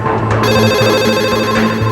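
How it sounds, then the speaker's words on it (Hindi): A telephone rings loudly and continuously with a dense, buzzing electronic tone that repeats in quick pulses, with no voices over it. "हमारी फोन लाइन रुकने का नाम नहीं ले रही थी।"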